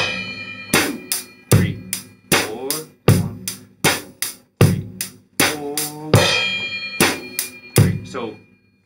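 A drum groove on snare and hi-hat, played alone with steady, evenly spaced sharp hits and bright hi-hat ticks running throughout, close and clear.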